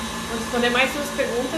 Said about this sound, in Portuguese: essa batedeira aqui, ela é muito boa pra algumas coisas, né?